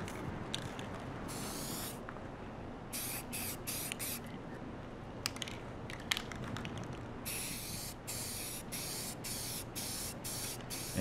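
Short aerosol spray bursts hiss repeatedly across a plastic computer case top panel being painted beige, each burst lasting about a second with brief pauses between, close and fairly quiet with no talk.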